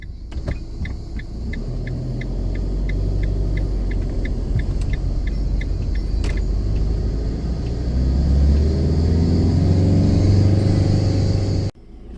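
A caravan drives along a coastal road toward Çökertme, its engine a steady close rumble and hum with road noise throughout, and a brief knock near the end.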